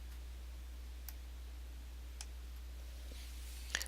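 Sparse computer mouse clicks, four or five short, faint ticks spaced irregularly over a few seconds against a steady low hum, with no talking.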